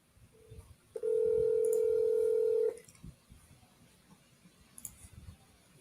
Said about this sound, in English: Answer this phone, Dan.